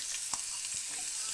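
Food sizzles and crackles softly in hot cooking oil during chicken fried rice preparation, with a steady hiss and a few brief stirring clicks, heard alone without talk.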